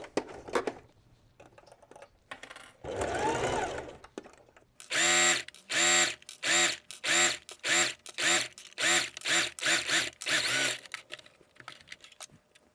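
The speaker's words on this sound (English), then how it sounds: "with the stitch length 4 and the needle position on the right, we will do a top stitch seam along the top edge" A sewing machine top-stitches along the top edge of a collar seam at a long stitch length, running in about ten short, loud bursts of rapid mechanical whirring separated by brief pauses, after an earlier single run.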